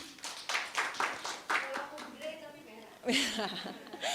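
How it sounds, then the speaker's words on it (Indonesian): Audience clapping at a political talk show taping, scattered rhythmic hand claps at moderate distance, with talk over and between them. "boleh tepuk tangannya teman-teman"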